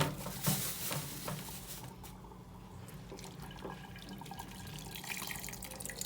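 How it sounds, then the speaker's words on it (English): Water drips and trickles from a squeezed nylon bag of achicha, the soaked pigeon pea and cocoyam mixture for a Nigerian dish, a steady close wet splatter and running flow with no voices. "Now you make sure you squeeze out the water very well."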